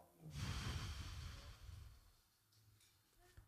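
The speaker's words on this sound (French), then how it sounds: "Une respiration." A single slow, deep breath taken during a yoga session, quiet and close, an inhale followed by a softer release with no talking.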